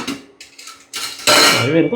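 A metal pot lid clanks shut and is lifted again over a pan of cucumber pachadi cooking on the stove, giving a few close, sharp metallic knocks and scrapes with a short pause between them.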